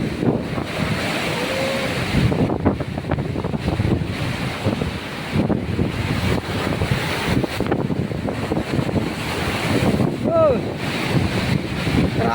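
Ocean surf and strong wind during Typhoon Uwan: continuous roaring waves and buffeting wind noise on the microphone, loud and close, with excited shouts and voices breaking through now and then.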